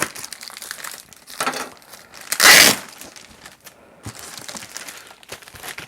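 Packaging from an Avios BushMule model airplane kit crinkles and tears during unboxing, with bursts of crumpling plastic and paper and one loud ripping surge in the middle.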